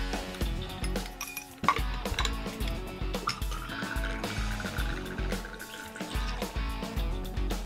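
Averna Amaro poured over ice in a serving glass, with clinks of glass and ice and a liquid trickle running through the pour, heard close and alone with no talking.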